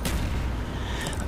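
A sniper rifle shot in a pre-patch competitive video game match, a sharp loud report at the start followed by a booming, rumbling tail that stays dense throughout, with a faint higher crackle near the end.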